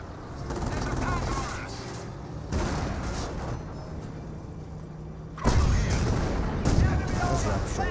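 Tank cannon fire from a StuG and a Hetzer in the game Company of Heroes, with heavy booming shots and sustained rumbling battle noise that swells louder near the end.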